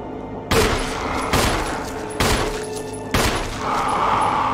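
Gunshots in the survival horror game Resident Evil HD Remastered: four loud, sharp shots roughly a second apart, each ringing out in a reverberant space, with no talk over them.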